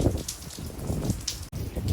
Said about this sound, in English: the storm is doing what storms be doing. Wind and rain,